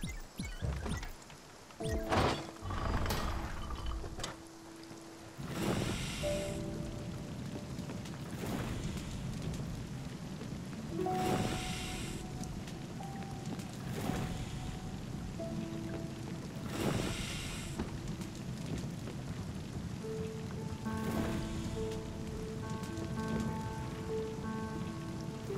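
Steady rain patters on surfaces in the video game Spiritfarer, a continuous soft wash with occasional louder bursts and faint musical tones in the background.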